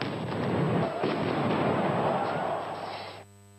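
Stun grenades and tear gas canisters fired by riot police at a riot in Athens, a loud continuous roar of blasts and crowd noise lasting about three seconds before cutting off abruptly.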